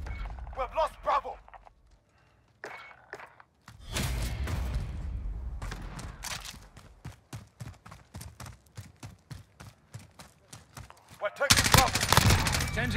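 Gunfire in a Call of Duty online match comes as a dense stretch of rapid, sharp shots, followed by a louder burst near the end. Voices and game sounds come and go around the firing.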